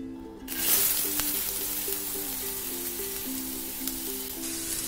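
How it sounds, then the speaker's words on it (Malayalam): Sliced onions hit hot coconut oil in a pan and burst into a loud, steady sizzle that holds close and continuous, with a low hum running underneath. "വെളിച്ചെണ്ണ ഇപ്പൊ നല്ല പോലെ ചൂടായി വന്നിട്ടുണ്ട്. ഇനി ഇതിനകത്ത് നമുക്ക് സവാള ചേർത്ത് കൊടുക്കാം."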